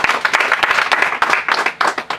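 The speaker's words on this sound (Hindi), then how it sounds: "सुंदर वचन के लिए ताली एक बार हो जाए परमेश्वर के लिए" A church congregation applauds after a Bible sermon, a short, close burst of brisk clapping lasting a couple of seconds.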